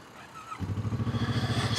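A Kawasaki Vulcan S 2025 motorcycle with an aftermarket exhaust starts up and settles into a loud, close, steady pulsing idle after a brief quiet moment, with a slight rise at the end.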